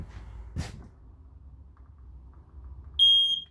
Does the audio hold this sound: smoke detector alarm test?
yes